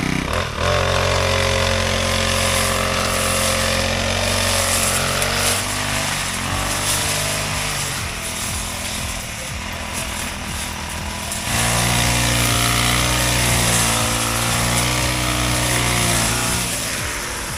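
A repaired grass cutter runs loud and close, its small engine droning steadily with shifts in pitch as it revs up and settles back, sounding continuously throughout.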